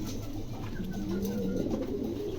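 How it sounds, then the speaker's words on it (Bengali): A pair of large pigeons at a pigeon market, giving a soft, low rolling coo up close over a steady background hum. "চমৎকার এক জোড়া কবুতর"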